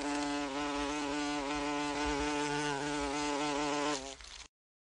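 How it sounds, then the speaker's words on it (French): A steady, loud electronic buzz like a bee drones for about four seconds, then cuts off abruptly into silence, from the children's video game Adibou: Aventure. "L'abeille."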